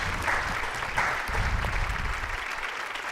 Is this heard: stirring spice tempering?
no